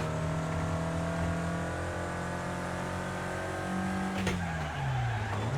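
A racing car in the game Wreckfest holds a steady engine drone, then brakes with a short skidding screech and the engine pitch drops and swoops before climbing again.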